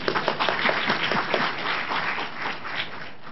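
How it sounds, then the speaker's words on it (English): Audience applause at a Buddhist lecture event in Singapore, a dense steady patter of many hands clapping together for a few seconds, fairly close and even in loudness with no talk over it. "You all deserve a big round of applause for yourself"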